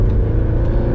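A big naturally aspirated Mercedes-AMG engine drones loud and close inside the car on the Autobahn, a dense, steady low rumble under power with no voices.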